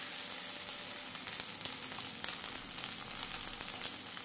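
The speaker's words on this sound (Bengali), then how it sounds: "খুব ভালো করে ফ্রাই করে নেব আমি এবার পাতাগুলো" Kharkol leaf paste fries in a wok with a continuous bright hiss and crackle, steady and close, with faint stirring ticks and no talking.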